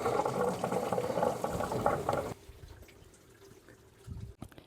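Coolant draining from a hose on a 2007–2014 Chevy Silverado into a large container below the thermostat, a close liquid trickle and splash that stops abruptly midway, leaving faint drips and small clanks.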